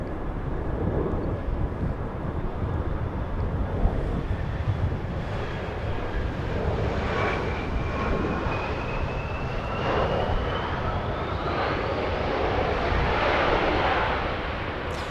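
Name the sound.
Embraer E175 SkyWest airliner flying in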